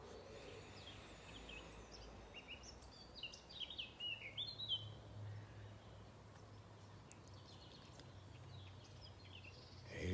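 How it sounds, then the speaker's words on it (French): Birds sing faintly in a calm outdoor setting, with a few scattered chirps and trills rising briefly in the middle over a quiet, soft background hush. "Les oiseaux chantent."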